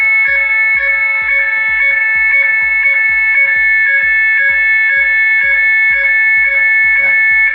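A loud, steady electronic fire alarm tone, set off from a manual call point in a home hallway, blares continuously, pulsing rapidly with a rhythmic beat underneath, close and unbroken.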